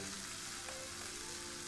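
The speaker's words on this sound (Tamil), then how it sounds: "இந்த மாதிரி திருப்பி போட்டு போட்டு இதை வந்து நீங்கள் குக் பண்ணிவிடுங்க" Tandoori chicken cooks on a flat tawa with a steady, soft sizzle and hiss throughout, quiet and unbroken, with no talk.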